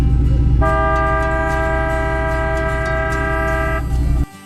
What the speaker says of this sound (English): I do need to blow the ship's horn for about 5 seconds. It's a little bit loud.